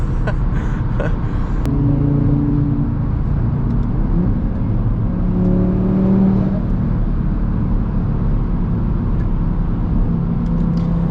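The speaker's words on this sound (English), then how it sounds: "Downshift, floor it." Audi RS3 with a loud exhaust downshifting and accelerating hard at full throttle, a steady deep engine drone heard from inside the car that swells briefly mid-run, with no talk.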